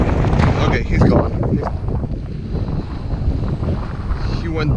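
A big gust of wind roars and buffets the microphone during stormy weather on an urban waterside fishing trip, loud and close, easing slightly after the first seconds while someone speaks.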